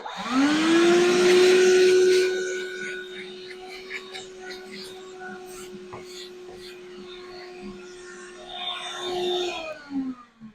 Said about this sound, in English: I'm cleaning it up with the vacuum, my battery powered vacuum